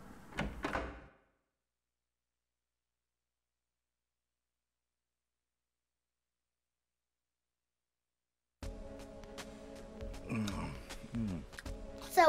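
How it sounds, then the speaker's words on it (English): A door opening in the video game Silent Hill 2, a short heavy thunk at the start followed by long silence, then muffled game ambience and character dialogue near the end. "take the side door over here"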